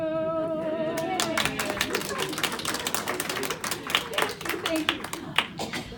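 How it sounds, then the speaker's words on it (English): Applause from an audience at a funeral preparedness presentation, a dense spread of hand claps building after a fading tone and continuing steadily, moderately near, with a voice speaking over part of it. "I was hoping you would applaud"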